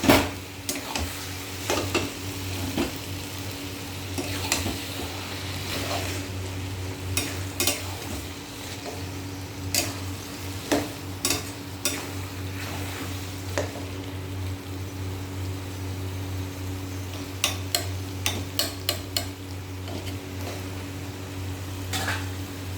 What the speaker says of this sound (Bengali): চলো নাড়া পরে আসছি, আবার একটু নাড়া দিয়ে দেবো।